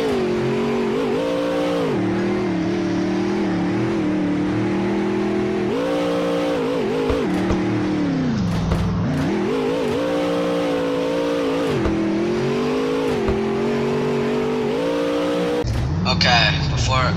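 Monster truck engine in the Car Dealership Tycoon video game, revving hard through a jump and landing, a steady loud drone with rising and falling pitch sweeps, someone talking over it.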